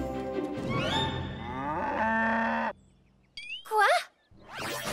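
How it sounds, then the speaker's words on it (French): Cartoon cows give several loud, drawn-out moos with sliding pitch, followed by brief squeaky animated sound effects, in a children's train animation. "Salut les vaches à lait."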